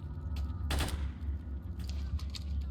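A sharp burst of gunfire in S.T.A.L.K.E.R. stands out, with a few lighter shots trailing afterward over a low steady hum.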